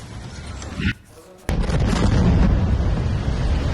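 Airstrike explosions in Lebanon roar as a dense, loud rumble of blasts, broken by a brief drop before the heavy booming resumes and continues steadily.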